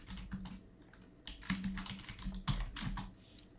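Computer keyboard typing, a rapid, continuous patter of close, crisp keystrokes with irregular bursts and brief pauses, entering input into a Python program, with no speech over it.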